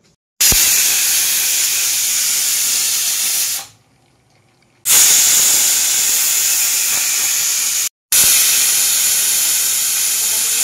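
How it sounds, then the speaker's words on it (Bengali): Mutton curry boiling in water under pressure, a loud steady steam hiss bursting out in long blasts with two abrupt silent breaks between them. "টকবক করে ফুটছে।"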